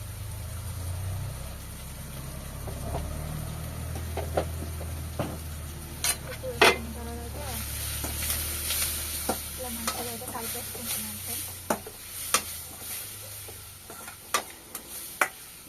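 A spoon stirs egg curry with chili powder and salt in a hot pan, giving repeated close scrapes and clinks against the metal over a steady sizzle.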